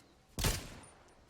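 A single gunshot in a Fortnite Zero Build match, one sudden loud crack followed by a short decaying tail, alone with no talk.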